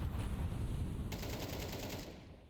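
Gunfire in Counter-Strike 2: a quiet rapid burst of automatic shots rattles for about a second midway, over low background rumble.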